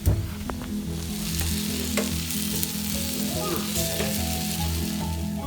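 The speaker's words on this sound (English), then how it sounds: "When onions get really soft, adding the ginger paste." Soft onions fry with ginger paste in a pan, a loud, close sizzle with crackles and a few stirring scrapes, steady throughout and free of speech.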